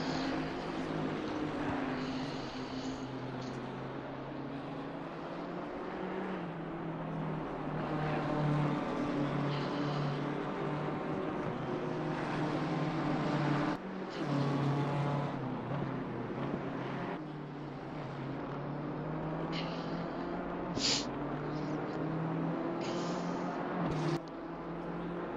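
GT3 race cars at Laguna Seca in a sim racing game, a steady, dense engine drone from several cars running together, loud and continuous with no speech.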